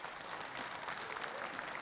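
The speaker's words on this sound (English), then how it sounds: "Let's give him a round of applause." Studio audience applause on a Michigan outdoors hunting show, a brief, even wash of clapping at moderate level with no voices.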